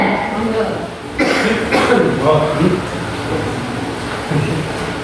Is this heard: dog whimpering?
no